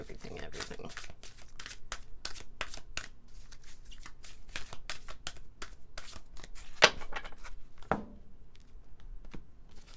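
Rapid papery shuffling of tarot cards, a steady run of crisp riffles and slides up close, with a few sharper snaps near the end and a voice beneath.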